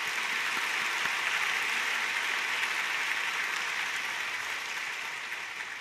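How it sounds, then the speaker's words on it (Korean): A church congregation at a Sunday worship service gives sustained, dense applause to a returning missionary, steady and even throughout before easing off slightly at the end, with no speech over it. "우리 감사의 격려 박수 하겠습니다"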